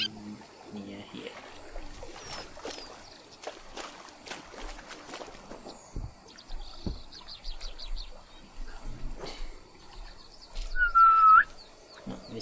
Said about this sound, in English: they don't hear the whistle sound because of the distance